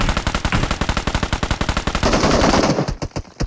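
Automatic gunfire in the mobile shooter BGMI, a rapid close burst of evenly spaced loud shots that runs unbroken for about three seconds and then stops, followed by a few scattered, separate bangs.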